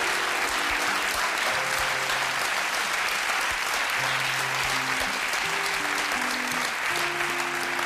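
A studio audience claps at a German TV comedy show, steady dense applause filling the whole stretch at even loudness with no talk over it.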